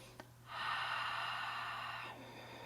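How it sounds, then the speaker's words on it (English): Ujjayi breathing, a slow inhale through the nose with a gently constricted throat, makes a soft, steady oceanic hiss lasting about a second and a half in a quiet room. "Seeing if you can get this Ujjayi breath going"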